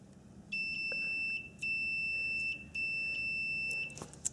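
A multimeter's continuity tester beeps as it probes the black wire of a harness connector on a Honda S2000 air pump circuit: three long, steady, high-pitched tones separated by brief gaps, clear and close.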